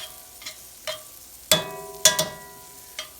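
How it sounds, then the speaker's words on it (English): Oxtail roux cooking in a pot, with soft sizzling underneath and several sharp scraping stirs of a plastic fork against the pan, spaced irregularly and up close. "we're just going to let this cook and sort of form a bit of a roux"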